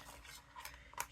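Scissors snip through craft paper for a decorated bag in a few quick, faint cuts, each one a short crisp rasp close by.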